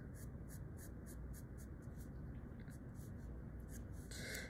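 A pencil drawing a person's neck on paper, soft rhythmic scratchy strokes close up in short repeated bursts over a low steady background hiss.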